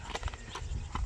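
Hooves of a Karabair horse walking on a hot day near Bishkek make a steady clip-clop, several close, fairly quiet steps in an even rhythm.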